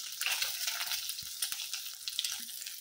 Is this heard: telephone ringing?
no